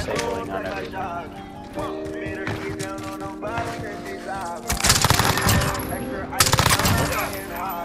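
Shotgun blasts ring out in a first-person shooter match during a bomb-planting round, several sharp booming shots in quick succession layered over background game sounds and effects.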